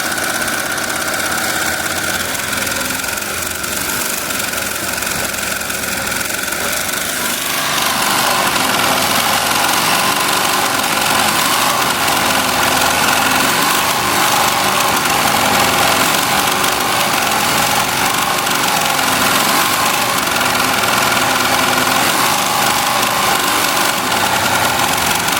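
An embroidery machine stitches a jacket at 1500 stitches per minute, giving a steady, close mechanical whir that grows louder and busier after the first few seconds and then holds unbroken to the end.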